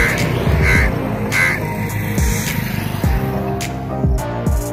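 A raven, the local crow of Chennai, caws in a few harsh calls against steady outdoor noise from passing traffic in the city.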